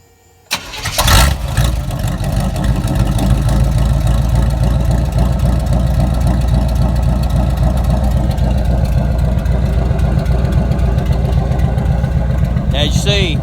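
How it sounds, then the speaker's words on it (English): A truck engine, freshly given a valve adjustment and sounding like it has a big cam, starts with a sharp catch and then runs steadily at close range, loud and continuous with a lumpy idle for the rest of the stretch. "But I'm going to show you now how the truck runs."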